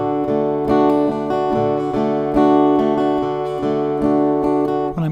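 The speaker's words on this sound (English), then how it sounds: "When I'm not palm muting and I have my hand up like this," Acoluctic guitar strummed openly without palm muting, playing the intro to a song: ringing sustained chords with repeated strums, close and clear, no talking.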